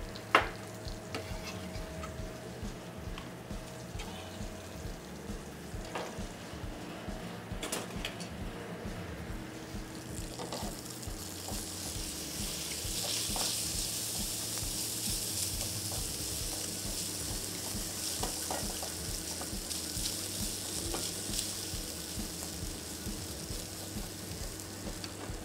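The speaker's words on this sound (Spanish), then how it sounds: "estoy revisando la tocineta que no se me queme" Bacon crackles softly in a pan, a quiet, steady frying hiss with scattered pops and clicks, growing a little brighter midway, with a low background hum and no talking.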